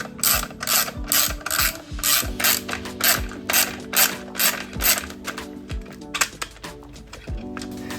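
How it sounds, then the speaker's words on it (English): A ratchet wrench loosens bolts on a motorcycle cover to fit a radiator guard, a close, loud series of rapid metallic clicking strokes in steady bursts, with a few knocks and clinks of the tool near the end. "They're the only two bolts we're going to need to take out on both sides to mount it."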